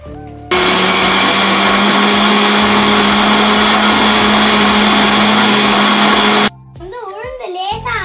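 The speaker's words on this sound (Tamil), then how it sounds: "இப்போ நாம இந்த ஊற வச்ச உளுந்தெல்லாம் எடுத்து நம்ம மிக்ஸில போட்டு நல்லா அரைச்சிடலாம்" A kitchen mixer grinder whirs loudly as it grinds soaked urad dal for bonda batter, a steady motor whine of about six seconds that cuts off abruptly, followed by someone speaking.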